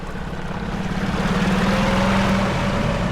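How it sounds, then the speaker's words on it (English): A 6 horsepower outboard motor drives an Air Skiff inflatable fishing boat across choppy open water, a steady loud engine drone that builds slightly as the throttle opens, with no talk. "open up this throttle a little bit and see what kind of speeds we can get with this outboard"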